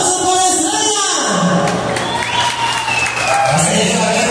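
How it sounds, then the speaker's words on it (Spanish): A crowd applauds for Estrella at a casino, with dense clapping throughout, mixed with crowd noise and a tonal backing sound. "¡Los aplausos por Estrella!"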